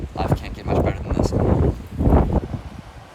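Strong wind buffets the microphone in loud, rumbling gusts on a beach at Kawakiu Nui Bay, Hawaii, with a voice talking over the roar.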